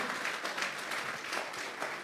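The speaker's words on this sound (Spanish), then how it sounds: "Vamos a darle una ofrenda de palmas entonces al Señor." A church congregation gives a quiet, steady round of clapping as an offering of palms to the Lord, many hands patting in a dense, even patter heard from a distance.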